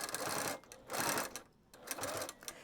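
A sewing machine stitches a fabric pouch in three close, whirring bursts separated by brief pauses, loud and near with no talk.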